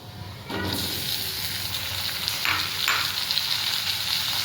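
Chunks of taro drop into hot oil in a pan and burst into loud, steady sizzling and frying, with a brief stirring scrape midway.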